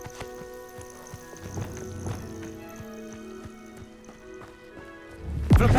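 A cow walks in Hogwarts Legacy, its hooves giving soft, irregular clops over a steady game-music bed, ending in a sudden loud thump.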